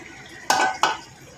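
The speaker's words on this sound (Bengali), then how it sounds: "এখন মাছ যে মাথাগুলো কষিয়ে রেখেছিলাম ওগুলো দিয়ে দেবো আমি।" Fried fish heads tipped into a metal pot of gourd curry, two distinct clanking scrapes of utensil against the pot in quick succession over a faint background, close and with no speech.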